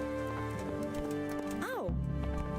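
Horse hooves clip-clop steadily on a path in Kingdom Come: Deliverance, a medieval game, mixed with a whinny-like rising cry and talk over a bed of music.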